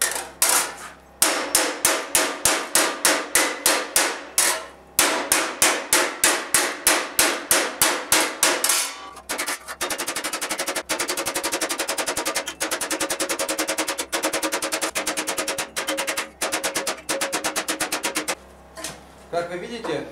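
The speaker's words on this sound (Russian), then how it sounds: "Так, начинаем равномерно проковывать." A hammer forges a sheet metal elbow armor piece over an oval hollow, first in an evenly spaced run of loud ringing strikes, then in a rapid, nearly continuous stream of blows.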